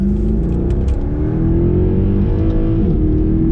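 A 500hp Mercedes sports car accelerates hard at about 90% throttle in regular drive, with a loud, steady engine roar rising in pitch from inside the cabin and no gaps throughout.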